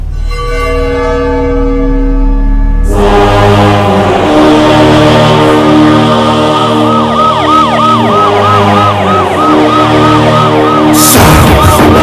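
An ambulance siren wails loudly and close in a continuous rising and falling tone, with a brief burst of other noise near the end and no speech.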